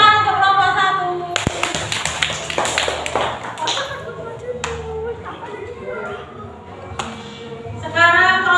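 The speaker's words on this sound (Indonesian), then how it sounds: "Tepuk tangan untuk kelompok 1." A classroom of students clapping for a group of classmates after their presentation: a short, lively burst of applause in the middle, with voices and room chatter before and after.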